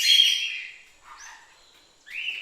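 Bright, high chirping calls from a parrot, one long call, a softer fainter one, then a short final call, with no other sound.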